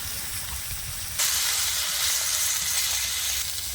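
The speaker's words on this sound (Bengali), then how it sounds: "মাছটা এপিট ওপিট করে ভালো করে ভেজে নেব।" Fish fries in oil with a continuous close hiss that jumps suddenly louder about a second in, as the fish is turned to fry the other side, then holds steady.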